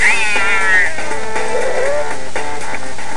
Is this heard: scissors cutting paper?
no